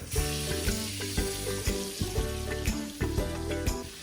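Food frying in butter in a pan, a steady loud sizzle with rhythmic clinks and scrapes of stirring throughout, no voices.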